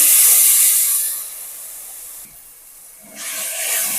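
Tomato paste fries with browned onions, green chillies and curry leaves in a pan, a loud steady hiss that fades midway, drops nearly silent, then surges back.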